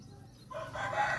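A farm rooster among the chickens crows in a short, loud, nearby burst that rises after a brief stretch of quieter background.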